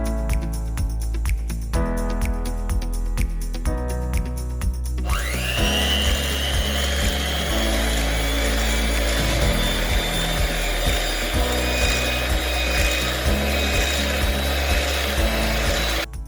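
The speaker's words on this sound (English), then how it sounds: "in a bowl, you want to cream together oil, brown sugar and granulated sugar" An electric mixer creams oil, brown sugar and granulated sugar in a bowl for carrot cake batter, a loud continuous whirring hum that shifts pitch and steadies, running alone throughout.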